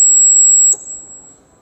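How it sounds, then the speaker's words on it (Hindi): A fire alarm system panel sounds a steady high electronic tone, loud and continuous for under a second before cutting off, leaving faint low background noise behind. "फिर देखो अलार्म आ रहा है"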